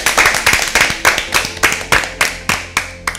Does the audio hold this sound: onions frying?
no